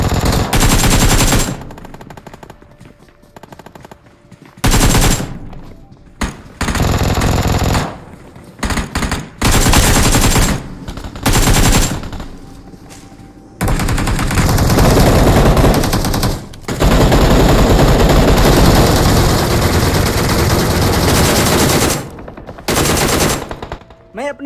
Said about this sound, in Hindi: आप आसपास के गन का साउंड सुन के भसड़ दे सकते हैं यहाँ पे कितने सारे बंदे आए हुए हैं